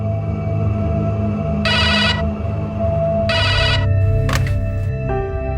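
An electronic telephone ring sounding in repeated bursts over a droning music bed, with a brief chime near the end and no voices.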